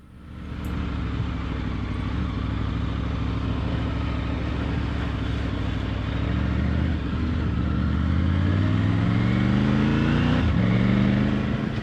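A Triumph Tiger 900 motorcycle rides through the Victorian High Country, its engine droning steadily under heavy wind rush, with the engine pitch climbing toward the end as it accelerates.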